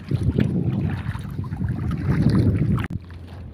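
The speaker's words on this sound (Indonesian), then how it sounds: "Dinginnya angin malam ini menyapa tubuhku." Cold night wind at sea buffets the microphone in a steady low rumble with boat and water noise beneath, no talking.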